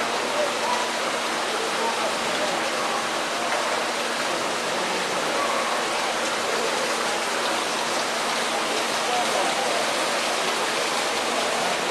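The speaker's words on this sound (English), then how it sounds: "the stream goes underneath and out the door" Water rushes steadily beneath a walleye hatchery building in Constantia, NY, a dense, even flow that carries on unbroken and fairly close, with no pauses or other sounds standing out.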